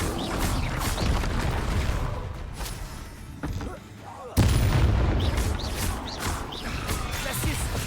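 Confringo fire spell blasts in the Hogwarts Legacy video game, a dense, loud run of booming explosions and crashing impacts, with a heavier burst midway, under spell-casting voices.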